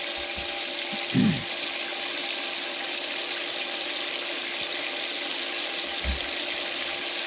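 Steady rush of water running through a gold clean-up sluice, constant and fairly loud throughout, with a couple of brief low knocks.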